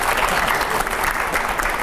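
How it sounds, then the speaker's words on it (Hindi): An audience breaks into loud, vigorous applause, close and continuous, with dense clapping and some crowd noise throughout a short burst. "पहले जोरदार तालियां होनी चाहिए।"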